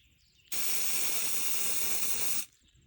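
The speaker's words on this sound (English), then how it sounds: "Now granted, when you're spraying this stuff, it will nuke any insect." A pump sprayer hisses out a foaming Simple Green soap insecticide mixture in one steady, loud two-second burst, starting and stopping abruptly against a quiet background.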